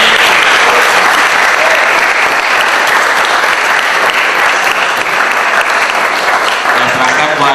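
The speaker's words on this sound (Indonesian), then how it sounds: "Kita berikan aplaus yang meriah." Loud, sustained applause from an audience at a formal law session event, a dense wash of clapping hands filling the whole stretch without a break.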